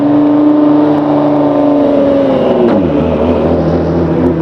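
A loud Dodge Viper ACR race car engine roars and revs, its pitch sliding down as it passes close by.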